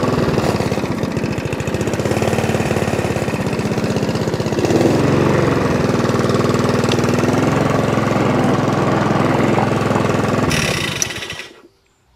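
A salvaged Mountfield 474 lawn mower engine idles steadily and loudly up close, a continuous throbbing drone that holds for about ten seconds before cutting off and dying away.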